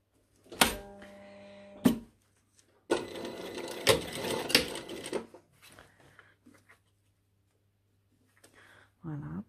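A sewing machine runs in short bursts while stitching around a round piece of a lined jacket 1 cm from the edge. A brief whir comes first, then a longer, louder run with a few sharp clicks. The motor stops and a voice speaks briefly at the end.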